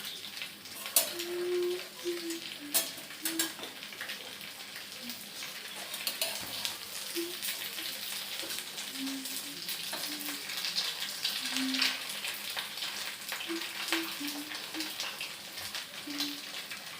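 Chilli chicken pieces fry in a pan, a steady crackling sizzle that runs throughout, with occasional soft clinks and bumps over the hiss and no one speaking.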